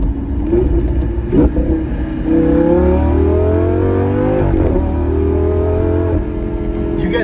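A 2012 Lamborghini Gallardo LP550-2 engine revs up and holds a loud, rising roar with deep rumbling tones, close by, then settles slightly before rising again.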